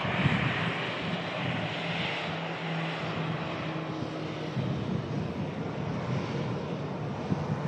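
An airliner at an airport runway, its engines producing a steady, broad roar that holds at one level throughout, heard from a distance with some wind noise and no talk.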